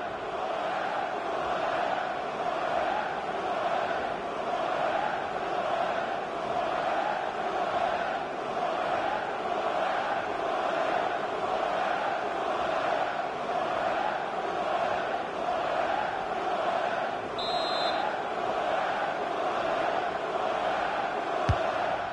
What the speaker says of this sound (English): the crowd indulging in the Mexican wave